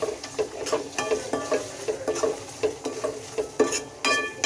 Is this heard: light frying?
yes